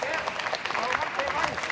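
A crowd applauds Muay Thai fighter Stamp Fairtex during a ONE fight as she lands hard leg kicks on her opponent, with dense, steady clapping and cheering through the whole moment, mixed under ongoing commentary.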